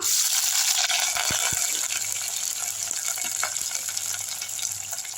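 Mustard seeds, fenugreek, cumin, onion and curry leaves frying in sesame oil for a Tirunelveli-style fish curry: a steady bright sizzle with a few sharp crackles and pops, close and fairly loud, no voices.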